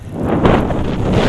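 Strong gusting wind at Coney Island roars steadily into the microphone, a loud, dense buffeting rush with no voices.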